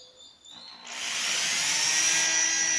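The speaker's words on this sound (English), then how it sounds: "Be careful not to hit the finish with the front of the drill." Power drill boring holes for drawer knobs through a shop-made jig: a faint start, then the motor spins up into a loud, steady whine that holds to the end.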